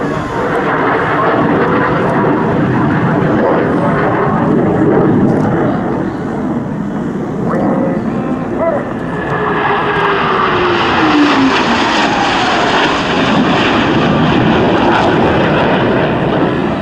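Blue Angels jet aircraft at the 2012 Sioux Falls airshow performing a diamond aileron roll, a loud, steady roar of jet engines sweeping overhead with a rising and falling whoosh and wind buffeting throughout.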